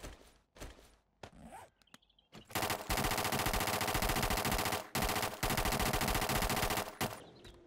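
AK rifle fire in the video game 7 Days to Die, a few scattered thuds and clicks, then long, loud sustained bursts of rapid automatic gunfire with a brief break in the middle.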